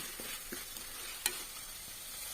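Green chillies and chopped ginger fry in hot oil in a home kitchen with a soft, steady sizzle, punctuated by a few light stirring scrapes and one sharp clink near the middle.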